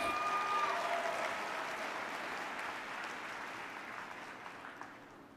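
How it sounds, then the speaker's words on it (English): Audience applause at a network marketing training event in Tampa, a fairly soft, diffuse wash of clapping that gradually fades over a few seconds with no talking. "Again, give yourself a big round of applause."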